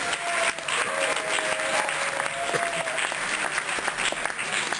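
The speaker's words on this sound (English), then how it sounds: "Let's give him a big round of applause" Audience applause for a friend at a harm-reduction community dinner: a steady, full wash of many hands clapping at a constant level, with a faint tonal hum underneath.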